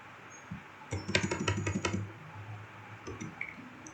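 Rapid, steady typing on a computer keyboard while working in MATLAB, a dense run of close clicks that trails off into a few scattered keystrokes, with no voices.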